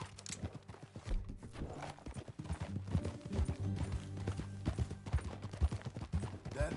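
Horse hooves clip-clop in a quick galloping rhythm in the video game Red Dead Redemption 2, close and steady over faint ambient sounds, with no one talking.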